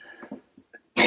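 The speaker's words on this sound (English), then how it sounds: "This chest infection is lingering. My coughing bouts aren't quite as much as they were" A person with a lingering chest infection gives a few short, rough coughs and throat-clearing sounds, ending in one louder burst, close and alone.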